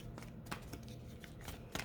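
Oracle cards being shuffled and pulled from a deck, a quick run of soft close riffling snaps and flicks in uneven bursts, faint and without talk.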